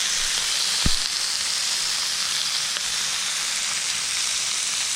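Chicken wings sizzle on a George Foreman grill with a loud, even hiss like steady rain that lasts the whole stretch, plus one brief low thump early on.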